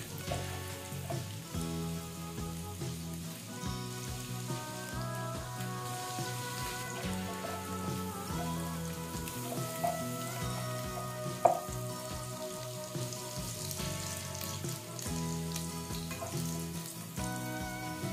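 Garlic browning in melting butter in a pan, a continuous fine crackling sizzle with a faint steady hiss and one brief sharp pop, close and without talk.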